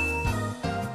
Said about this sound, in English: Hit marker.